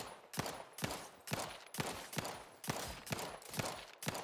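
Gunfire in The Outer Worlds 2, a steady series of about ten evenly spaced sharp shots, each a crisp crack with a short tail, close and fairly loud with no voices over them.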